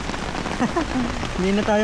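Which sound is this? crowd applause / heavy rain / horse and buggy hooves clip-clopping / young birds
heavy rain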